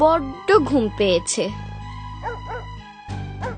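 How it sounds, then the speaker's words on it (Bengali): A cartoon dog barks at night, a few short barks heard in the middle, while cartoon characters talk around them. "কি ব্যাপার, এত রাতে কুকুরটা আবার ঘেউ ঘেউ করছে কেন?"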